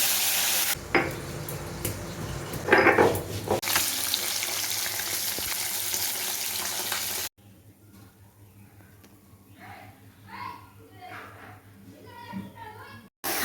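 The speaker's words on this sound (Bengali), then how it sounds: "আলুটা আমার ভাজা হয়ে গেছে গাইস, আলুটা তুলে নেব।" Potatoes fry in a pan with loud, continuous sizzling and a few stirring scrapes, then the frying drops away and a voice talks quietly over softer kitchen sounds.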